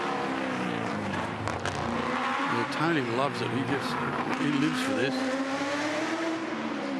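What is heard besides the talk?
touring car racing around track during qualifying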